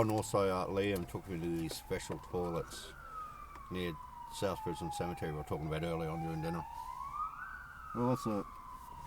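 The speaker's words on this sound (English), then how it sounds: "That's a siren if you're wondering." An emergency vehicle siren wails in slow rising and falling sweeps at moderate distance, running continuously beneath someone talking in the foreground.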